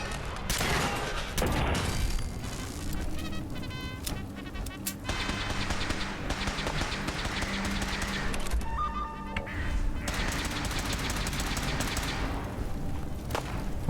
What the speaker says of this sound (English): What are you shooting at, Paladin Dance?